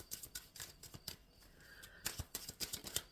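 Tarot cards shuffled by hand in quick, crisp riffling bursts, close and dry, with a short pause partway before the rapid card slaps resume.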